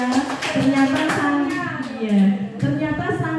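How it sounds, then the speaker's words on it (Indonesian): An audience of teachers at a school session applauds, scattered hand claps heard under and between voices and singing-like speech nearby. "Tepuk tangan buat Bapak Ibu semuanya."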